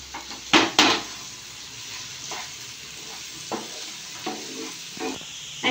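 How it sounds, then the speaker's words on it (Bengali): Semolina pulao sizzles and fries in a pan while a utensil stirs it, with a couple of loud scraping knocks early on and then softer, irregular stirring scrapes over a steady frying hiss. "আমি ভালো করে 5 মিনিট ভেজে নেব।"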